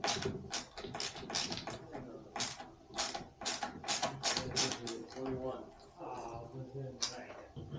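Screws being removed to take off a fender lid, heard as a rapid series of sharp mechanical clicks and ratcheting bursts close up, alongside a person talking.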